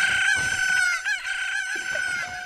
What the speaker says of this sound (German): Die Hühner greifen an.